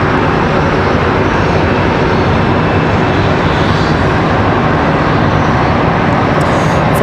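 A Frontier Airlines jet departs Charlotte Douglas International Airport, a loud, continuous broadband engine roar from fairly close that holds steady without a break, with no talking.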